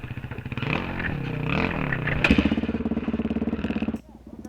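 Dirt bikes on a Moab trail rumble and rev up close, engines burbling unevenly with a rhythmic pulsing chug near the end before dropping off.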